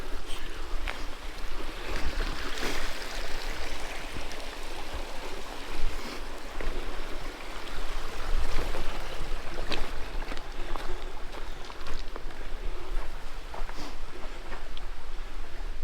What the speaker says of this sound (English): here's the Phelps Brook. I'll be crossing over this shortly.